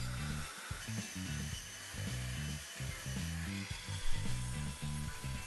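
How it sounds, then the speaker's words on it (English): A drill with an 11mm bit bores through the centre of a recycled-skateboard pen blank close up, its motor humming in pulsing bursts as the bit grinds steadily with no voices. "I drilled a hole through the centre of the blank using an 11mm drill bit"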